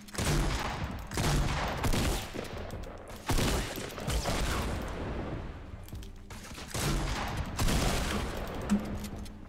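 Rapid bursts of gunfire in the Fortnite battle royale video game, dense loud volleys in several clusters with brief gaps between them, crackling over background game noise.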